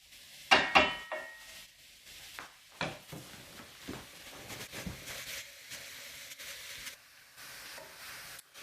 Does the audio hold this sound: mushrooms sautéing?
yes